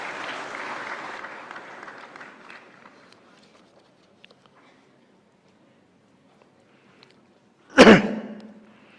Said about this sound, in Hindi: तालियों के साथ स्वागत माननीय मंत्री महोदय जी।